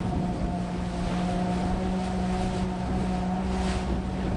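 Boat motors run steadily on a river patrol at night, a constant droning engine hum with wind buffeting the microphone, no voices.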